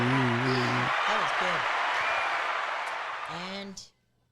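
Applause from a small group after a birthday song on a psychic's live show, dense clapping sustained for several seconds with voices singing and talking over it, then cutting off abruptly near the end.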